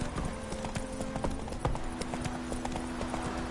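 Horse hooves clip-clop at a steady trot while riding in The Witcher 3 video game, a continuous rhythmic clatter over soft outdoor game ambience.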